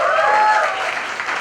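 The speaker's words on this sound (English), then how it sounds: "A big round of applause" Audience applause at a book launch event for the book "Lady, You're the Boss", a dense, steady clapping that swells briefly then eases slightly, close and loud, filling the short moment alone.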